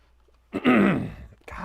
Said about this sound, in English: Gosh, I need to clear my throat.